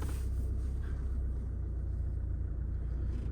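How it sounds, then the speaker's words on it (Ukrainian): A Renault Kangoo idles and then creeps forward a short distance, giving a steady, close, low engine rumble with no voices over it. "Ну, для начала давайте я від'їду трохи вперед."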